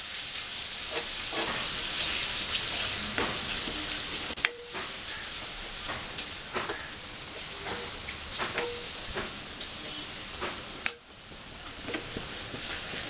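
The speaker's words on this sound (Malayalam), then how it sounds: "ഈ ഉള്ളിയും മുളകും കൂടെ ഒന്ന് മൂത്ത് വരണം." Onions and green chillies with curry leaves frying in a pan, a steady close hiss and crackle running throughout with scattered small pops, two sharp clunks of a stirring utensil, and no talking.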